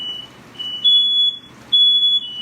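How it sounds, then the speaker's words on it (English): A kitchen smoke alarm chirps loudly in repeated high piercing beeps, two long tones alternating with shorter ones in a quiet room. "that smoke detector was going off"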